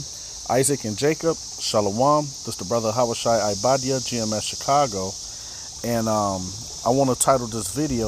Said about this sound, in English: you can hear the cicadas doing their thing right now.